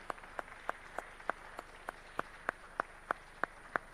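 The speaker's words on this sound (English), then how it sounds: "deserves a big round of applause, right?" Scattered applause from a small audience at an academic event, a few evenly spaced claps sounding across the hall at a steady, sparse rhythm, fairly faint and with no talking over them.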